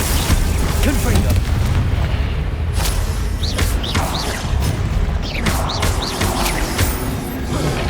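Confringo fire spell in the Hogwarts Legacy video game, loud booming explosions and bursts mixed with dense spell effects and game noise, continuous and close throughout.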